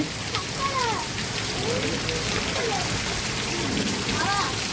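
Heavy rain falls in a loud, continuous rushing hiss, while faint voices rise and fall in the background.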